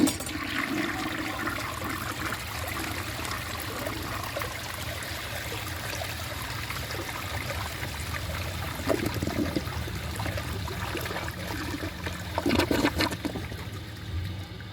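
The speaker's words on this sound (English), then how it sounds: "So let's give this a flush and see how it does on tests." A 1968 Montgomery Ward Waco toilet with a Douglas-style flush valve flushes with a strong, continuous rush of water that swirls and gurgles for the full stretch, with a few louder gulps toward the end.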